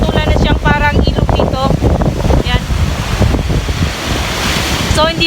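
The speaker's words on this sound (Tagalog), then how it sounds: "dahil sa lakas at laki ng hampas ng mga alon dito" Large waves driven by a typhoon crash against a seaside baywalk road in Southern Leyte, a loud continuous surging roar with wind noise battering the microphone and someone talking over it.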